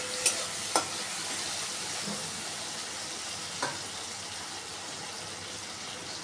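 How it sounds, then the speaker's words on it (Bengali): Tomato and four green chillies fry in a pan, producing a constant close sizzle with a few sharp clicks from stirring near the start. "টমেটোটা বেশ ভাজা ভাজা হয়ে এসেছে"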